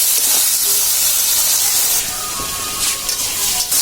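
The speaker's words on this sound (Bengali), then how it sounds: "আর মা এখন চিংড়ি মাছগুলো দিয়ে দিচ্ছে, ভালো করে ভেজে নেবেন।" Shrimp sizzling in hot oil in a pan for a shrimp dal, a loud steady hiss of frying that runs throughout with brief crackles and no voices.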